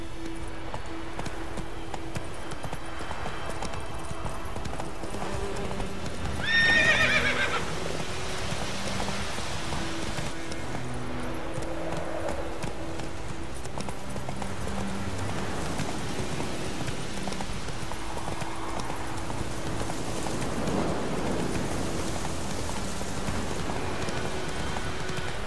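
Roach the horse gallops in The Witcher 3: Wild Hunt on Xbox One, a steady, muffled hoof rhythm running under a constant wash of rain-like ambience, with one brief brighter swell partway through.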